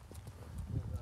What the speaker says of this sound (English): I'm riding on my beautiful horse named Lady.